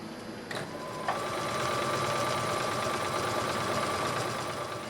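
A sewing machine runs steadily at close range, stitching a seam on an apron with a continuous mechanical whir and a few faint clicks at the start.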